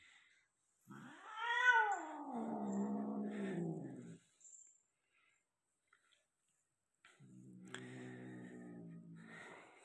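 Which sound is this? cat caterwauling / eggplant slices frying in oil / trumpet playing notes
cat caterwauling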